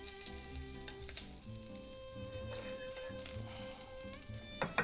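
Shrimp sizzle in a hot pan with butter, a steady dense frying hiss with faint background music underneath and a few clatters near the end.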